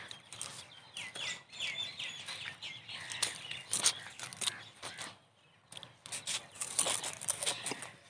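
Dense, busy chirping of many small birds in Tandlianwala, Faisalabad, high and twittering, rising and falling in waves with a brief lull midway.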